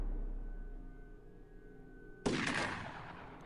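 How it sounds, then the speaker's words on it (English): AP bullets fire in the video game UFO Aftershock as one sudden burst of gunfire cuts in after a low quiet hum and rings on briefly, with no talk over it. "We're shooting him with AP bullets"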